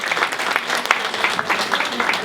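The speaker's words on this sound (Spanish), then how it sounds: "El aplauso para el doctor Federico Soñora" An audience at a conference panel claps for a doctor being introduced, a lively patter of many hands with faint voices mixed underneath.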